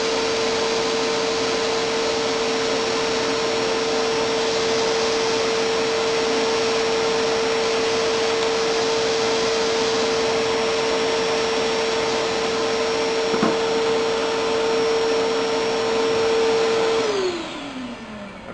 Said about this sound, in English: And then I like to vacuum at the same time.